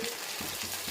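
Tomatoes dropped into hot oil in a pan already cooking garlic, onions and curry leaves, giving a steady hiss of frying with faint stirring bumps, close and continuous.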